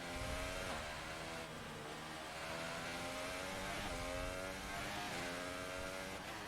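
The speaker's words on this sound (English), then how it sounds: "Dropping down the gears." Race car engine in F1 2018 on a Grand Prix circuit, a steady loud whine that repeatedly dips and climbs in pitch as the gears drop down, alone with no talk.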